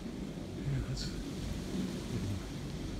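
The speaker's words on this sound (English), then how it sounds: "Looks like we got a storm coming up behind us here." Rumbling thunder of an approaching storm out in the Superstition Mountains near Fish Creek, a low continuous roll with rain hiss over it, moderately loud and steady throughout.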